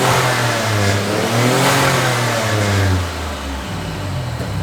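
A turbo-swapped Nissan 300ZX engine revs up loud and close with a deep, steady drone, rising and holding for several seconds before settling slightly lower, carrying a slight misfire.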